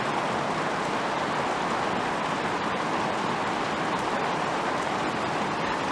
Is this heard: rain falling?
yes